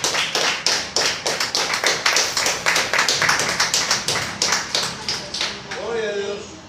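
A church congregation gives an offering of rhythmic clapping during a sermon, loud hand claps in a steady repeating beat that gradually fades out near the end as a voice returns.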